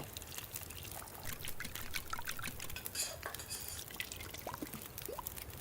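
Water being made in a survival video game, heard as a steady, fairly quiet pouring and trickling of liquid with a few small drips and clinks, alone with no talking.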